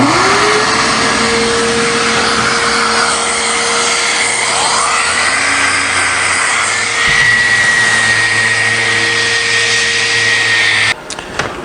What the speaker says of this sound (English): Okay, it's just all cleaned up, vacuumed off.